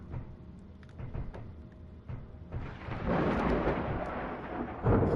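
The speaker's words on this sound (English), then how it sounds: "Those lightning storms, they sneak up on you and they freak you out." Thunder from a lightning storm in a video game: scattered low rumbles build into a long, heavy roll with rain-like hiss and a final loud crack.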